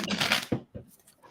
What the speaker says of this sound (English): I'm shuffling hard.